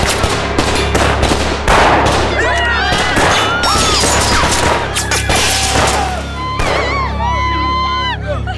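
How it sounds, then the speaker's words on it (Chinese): Movie scene of a volley of gunfire aimed at a brass gong on a city gate tower, rapid overlapping shots and sharp bangs with ringing metallic tones between them, loud and close, under shouting voices. "朝城楼上那个铜锣开枪！"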